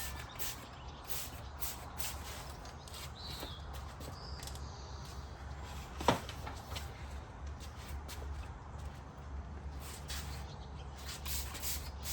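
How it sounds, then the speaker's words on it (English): Slightly soapy water is sprayed from a hand sprayer onto a Ford Mach-E GT ahead of a vinyl racing-stripe install, giving repeated short hissing bursts over a low outdoor background, with one sharp clack midway. "So I need to go spray this section with the kind of the slightly soapy spray water."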